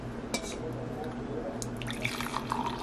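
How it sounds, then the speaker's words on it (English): Lemongrass tea trickles and splashes into a cup against a low background hum, with faint clinks; soft and close. "So the tea's done. Mommy's gonna pour it out."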